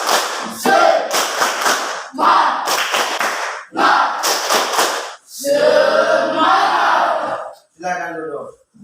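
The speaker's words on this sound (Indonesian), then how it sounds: "Kini kita kasih tepuk semangat." A school class claps in a rhythmic spirit cheer, loud and close, with bursts of patterned clapping broken by short pauses and shouted group chants.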